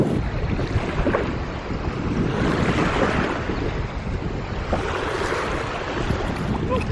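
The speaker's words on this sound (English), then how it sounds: "it's a bit windy down here" Strong wind buffeting the microphone on a nearly empty beach while waves roll in, a continuous loud rushing roar with surges of surf swelling and fading.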